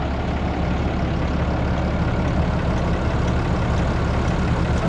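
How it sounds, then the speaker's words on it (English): Overheated vehicle engine idling while cooling down beside a campground, a loud, steady low rumble that continues unchanged with no talk over it. "We're trying to let the engine cool off, and it's got a really strange noise making me nervous."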